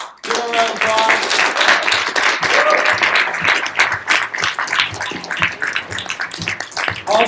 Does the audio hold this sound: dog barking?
no